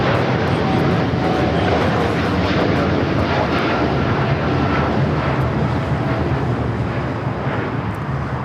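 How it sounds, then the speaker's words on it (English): United Airlines Boeing 787-10 Dreamliner taking off at LAX on a windy day, a loud, continuous engine roar throughout that eases slightly near the end, with voices heard over it. "This is United Airlines Flight 39 taking off to Tokyo Haneda on the 787-10 Dreamliner."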